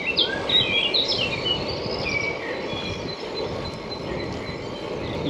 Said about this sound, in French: Écoutez tous ces oiseaux.